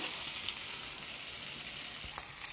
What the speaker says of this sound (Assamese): এতিয়া ইয়াতে পানী যোগ কৰিম, উতলা গৰম পানী।